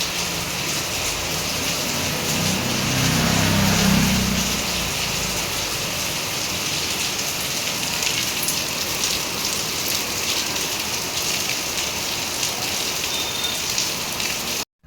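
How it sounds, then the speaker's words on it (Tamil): Heavy evening rain around half past six at home, a dense, steady roar of drops hitting surfaces with no pause. It swells slightly early on and keeps going loud and close for about fifteen seconds, with no talking. "அதுக்கப்புறம் மழை சத்தம் கேளுங்க. நல்லா மழை பெய்ய ஆரம்பிச்சிருச்சு."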